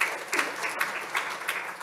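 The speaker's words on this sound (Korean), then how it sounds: "큰 박수 부탁드리겠습니다" An audience at a 2024 briefing on international greenhouse gas reduction projects gives a short burst of dense, steady applause from many hands, heard alone.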